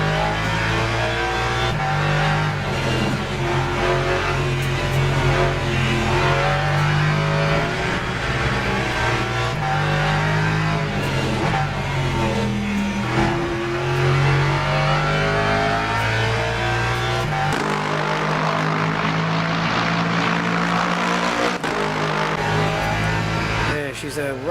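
An Aston Martin race car in the video game Le Mans Ultimate at Monza, its raspy, grumbly engine droning and revving steadily through gear changes, up close and continuous, with someone talking over it.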